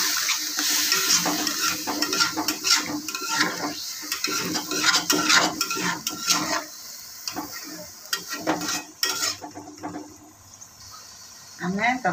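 Paneer curry cooking in a pan after water is added, with sizzling and bubbling under repeated scraping and stirring of a spoon against metal, close by, as someone talks.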